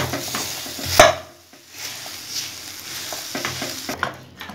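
A glass mashes a potato mixture in a pan, with one sharp knock and irregular scraping and pressing sounds over a faint sizzle, close by and with no voices.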